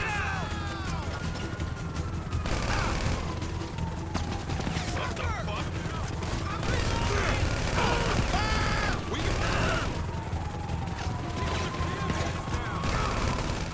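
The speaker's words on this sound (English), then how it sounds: "I'm receiving a lot more incoming fire from the cops" Police in GTA 5 fire on the player in a sustained exchange of gunfire: rapid bursts and single shots, mechanical clatter and impacts, with sirens wailing underneath and a voice talking over the chaos.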